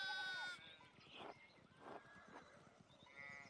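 Sheep bleat in the Pentiment video game: one drawn-out, wavering bleat opens, then quieter animal calls and a final shorter bleat follow over faint background sound.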